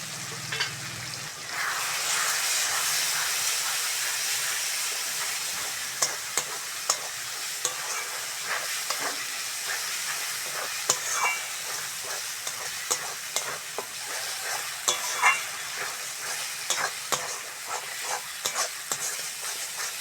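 Chilli powder, turmeric, ginger-garlic paste, cashews, raisins and cumin paste fry in hot oil for a Bengali silver carp fish curry. A loud, dense sizzle runs throughout, broken by frequent sharp stirring clicks, close up with no talking.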